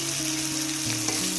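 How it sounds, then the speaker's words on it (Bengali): Bata fish frying in a pan with garlic paste and dried chilli powder, a steady close sizzle with a low hum running underneath for a short stretch, no voices. "শুকনো মরিচের গুঁড়া দিয়ে এবার ভালো করে নেড়ে চেড়ে ভেজে কষিয়ে নেব"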